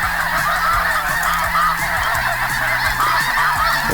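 Geese honk loudly and continuously from a flock of waterfowl during a field hunt, a dense overlapping chorus of repeated calls with no talking.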